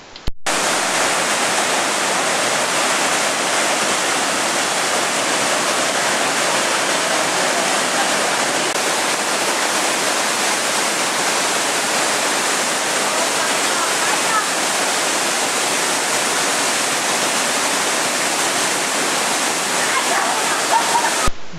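Lower Johnson Falls, a waterfall on a creek in Banff National Park, roars as a steady, dense rush of falling water, loud and close throughout with no pauses.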